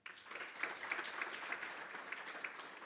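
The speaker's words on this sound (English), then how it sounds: "Can you give Mr. Mvalo a round of applause?" Audience applause at a university inaugural lecture, a steady wash of many hands clapping at moderate distance, continuous and fairly quiet without voices.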